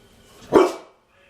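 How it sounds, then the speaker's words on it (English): A single sharp dog bark, close and loud, followed by quiet. "Not sure what she's barking at."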